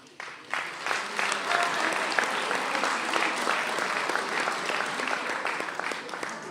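A crowd gives a round of applause at a 2024 athletic awards event, clapping that begins abruptly, then swells quickly into a full, sustained roar of hands that tapers off only slightly by the end.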